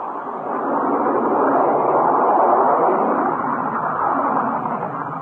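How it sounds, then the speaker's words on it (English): A loud, sustained jet roar from a B-52 bomber rumbles steadily without a break, broad and heavy, swelling slightly and then holding, with no voices. "That was the roar of the B-52, backbone of the Strategic Air Command."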